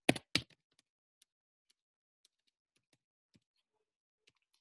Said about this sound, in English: Sorry, typing